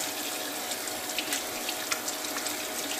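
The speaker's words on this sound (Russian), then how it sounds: "Я буду вымачивать прямо в мойке." Cold tap water running into a kitchen sink, a steady close hiss and splash with small irregular splatters, alone without talk.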